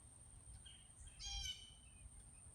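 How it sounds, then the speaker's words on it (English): A blue jay calls outdoors in a short, bright burst of harsh, ringing notes, moderately near over a steady low rumble and a thin, constant high insect-like whine, with no talk. "Confirmation Blue Jay."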